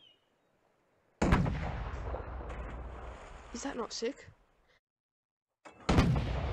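A pirate ship's cannon fires in the VR game Sail: a sudden loud boom with a rumbling tail, then a second blast near the end, with a voice speaking briefly between them.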